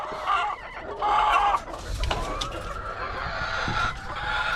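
Chickens cluck and murmur close by, a few soft overlapping calls with light rustling in the background.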